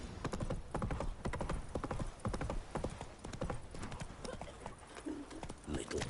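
Roach the horse galloping in The Witcher 3, steady rapid hoofbeats thudding on the ground with a whinny, under a voice speaking.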